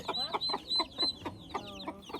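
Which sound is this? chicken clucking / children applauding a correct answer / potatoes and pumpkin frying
chicken clucking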